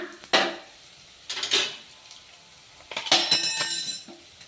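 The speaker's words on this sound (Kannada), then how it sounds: "ಇವಾಗ ನೋಡಿ ಶುಂಠಿ ಬೆಳ್ಳುಳ್ಳಿ ಪೇಸ್ಟ್ ಹಾಕೋಣ." Metal spoon clinks and scrapes against a pan in separate bursts while onions and ginger garlic paste fry, with short quiet gaps between the stirring strokes.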